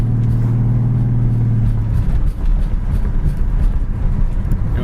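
A 1967 Ford Mustang coupe with automatic transmission drives on the road. Its steady engine hum drops as the gearbox shifts smoothly, then settles into road and wind noise.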